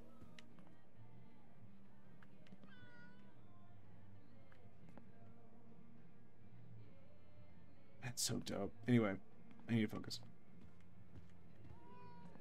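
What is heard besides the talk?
cat meowing in video game Life is Strange True Colors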